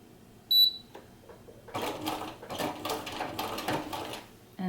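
Sewing machine back stitching an invisible zipper seam, a short run of fast, close mechanical stitching bursts at moderate level after a brief quiet start.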